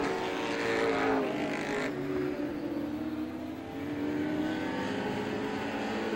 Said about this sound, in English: One would expect Kolofsky to run away and hide in this qualifying race here for the Bud Light division.